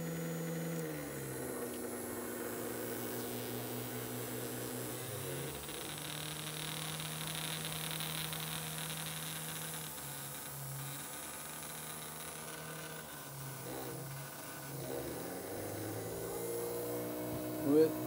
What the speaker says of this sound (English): With both motors running